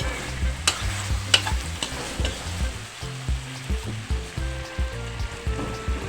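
Chicken curry with green chili sizzles in a pan while a spoon stirs it in a steady series of close scrapes and knocks over a continuous frying hiss.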